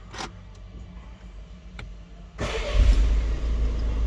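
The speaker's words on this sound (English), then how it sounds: "start the vehicle" Citroen C4 Picasso engine cranks and catches, rising from quiet to a steady idle rumble after a few faint clicks, close and fairly loud.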